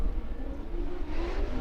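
Formula Drift cars launching from the start line at a 2022 Seattle pro round, heard as a distant, steady engine roar rising slightly in pitch, muffled and rumbling throughout.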